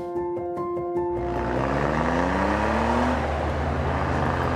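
Suzuki Cappuccino kei car with a turbocharged 3-cylinder 657 cc engine, first idling with a steady low pulse, then revving up loud and close, the pitch climbing smoothly as it pulls away.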